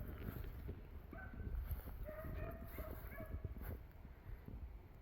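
Hunting puppies bark and yip while chasing a rabbit outdoors, several short, fairly distant cries clustered in the middle over a rumbling, noisy background.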